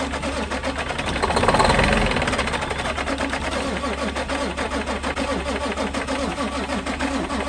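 Engine of a vehicle abandoned for five years, kept running on brake cleaner, with a steady rough idle that swells briefly near the start, then holds an even, throbbing drone throughout.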